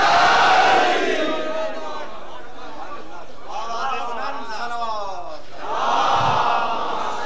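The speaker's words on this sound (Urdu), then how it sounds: "سارے دونوں ہاتھ بلند کر کے نعرے حیدری." A crowd at a religious majlis gathering loudly chants the Nara-e-Haidari slogan, a massed shout at the start and again at the end, with a quieter mix of voices and murmur in between.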